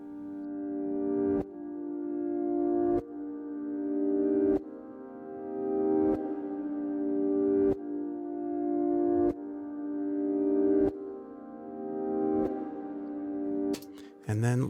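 A sustained tonal drone swells up repeatedly, each rise cut off abruptly every second and a half, with a long washy tail like reversed reverb, fairly loud.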